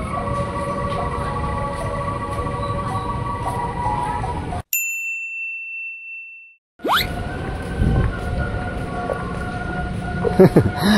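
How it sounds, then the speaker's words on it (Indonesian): The Tebet station platform melody, the Sundanese song Mojang Priangan, chimes over a train's steady rumble, then stops and leaves a brief near-silence before station and rail noise resume with squeals. "Stasiun Tebet pakai lagu Mojang Priangan ya"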